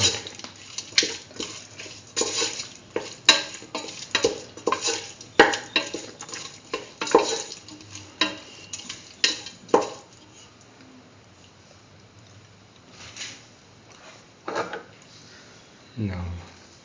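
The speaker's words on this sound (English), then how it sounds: "Thoroughly salt and mix." Salted food for a pumpkin beef rice dish is stirred and mixed in a pan, with repeated scraping and clattering of a utensil up close, busy at first and then quieter with sparse scrapes, and some speech mixed in.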